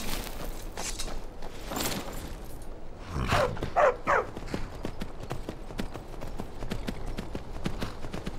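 Horse hooves clip-clop in the Skyrim video game, a steady walking rhythm of close, distinct hoof strikes with a louder cluster of steps in the middle, over faint background ambience.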